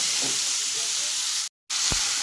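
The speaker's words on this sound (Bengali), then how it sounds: "এবার আমি এই ফোড়নের মধ্যে দিয়ে দিলাম কুমড়ো আলু" Pumpkin and potato pieces frying in a hot spice tempering of cumin, a loud steady sizzle that cuts out for a moment and then comes back with a single low knock.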